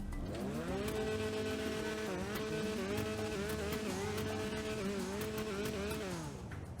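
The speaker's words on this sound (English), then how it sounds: "let's take a listen to the Rune Cheburek" A Rune Cheburek in GTA Online holds a steady engine drone with rising and falling revs, a continuous buzzy tone that shifts pitch a few times and eases off at the end.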